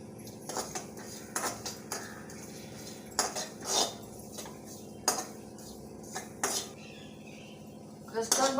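Poppy seeds dry-roasting in a pan for fenugreek and jaggery laddus, with a spoon scraping and clinking against the metal in irregular bursts over a low background hum.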